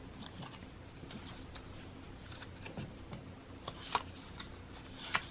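Tarot cards shuffled by hand in a quiet room, soft riffling and scattered light clicks and taps, faint and close, with a few sharper snaps near the end and no talk.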